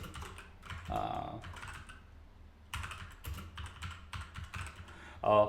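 Keys clacking in quick irregular bursts on a computer keyboard while a root password is entered, fairly close and moderately quiet, with short pauses between runs of keystrokes.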